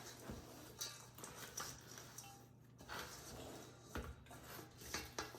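Broccoli salad mixture is stirred in a bowl with a utensil, giving a quiet run of scraping, rubbing and soft clinks in an uneven rhythm.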